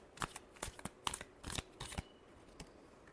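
Tarot cards shuffled by hand, a quick series of soft crisp riffling bursts, close and quiet, with short pauses between.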